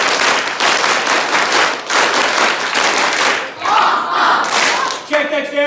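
A large audience of school students in grades five to eight applauds and cheers loudly. The clapping stays dense and sustained, with shouts and whoops rising near the end.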